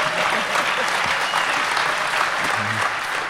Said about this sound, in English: Well, don't applaud so loud.